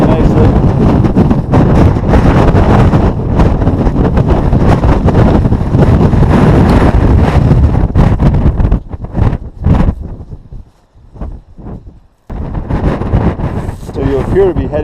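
Strong wind on the Camel's Hump alpine hiking trail roars and buffets against the microphone in loud continuous gusts, dropping briefly into a near-lull before surging back.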